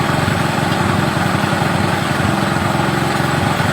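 Small motorcycle engine running steadily during carburetor adjustment, a continuous loud idle-to-raised-rpm drone with steady rhythmic pulsing throughout, no voices.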